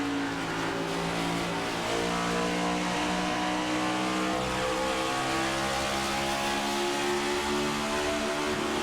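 A Toyota Camry stock race car in a Cup Series race at Nashville, heard from the roof camera, its engine roaring loud and steady close by as it downshifts, with tire and road noise underneath.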